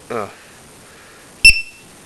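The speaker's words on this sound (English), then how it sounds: "So the alarm goes off." RC plane low-battery voltage alarm, set to trigger as the cell voltage sags under load in strong wind: a short buzzy chirp, then after a pause a second sharp, loud electronic beep with ringing tones.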